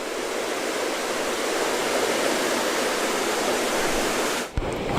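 Big Spring at Big Spring State Park, Van Buren, Missouri, a river gushing out from the base of a bluff: a steady, loud, broadband rush of water that fills the whole stretch, briefly broken by a short bump near the end.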